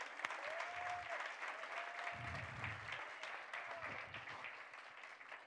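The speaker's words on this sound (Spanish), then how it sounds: "démosle un aplauso al Señor" A church congregation claps in steady applause, a dense patter that carries on throughout while a voice speaks over it.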